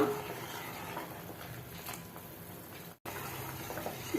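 Sweet corn soup seasoned with white pepper simmers in a pot, a soft, continuous bubbling and gentle liquid patter heard close, briefly cut by a short dropout.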